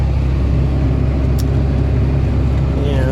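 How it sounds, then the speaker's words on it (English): A tractor towing a pull-type swather cuts barley in a September field, its engine giving a loud, steady, close rumble with no break throughout. "we're using the pull-type swather behind the tractor"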